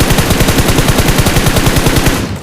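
Loud automatic gunfire from a video game fires as one rapid, steady burst of shots and cuts off near the end. No voices are heard.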